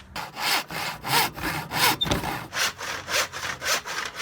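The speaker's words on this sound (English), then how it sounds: "Let's do some more cutting." Hand saw cutting through MDF boards for a model railway coach storage box, a steady rhythmic back-and-forth of about nine rasping strokes, close and loud with no talking.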